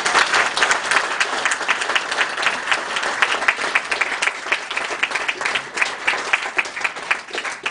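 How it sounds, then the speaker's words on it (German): Loud, lively audience applause at a panel talk, many hands clapping steadily and close for several seconds with a crisp, dense patter. "Dafür hat er sich einen Applaus verdient."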